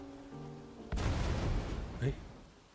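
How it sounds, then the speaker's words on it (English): A sudden explosion in the video game Path to Nowhere strikes after a quiet sustained tone, a broad roaring burst that rumbles and fades over about two seconds, with a smaller secondary thump. "a deafening explosion erupts from above."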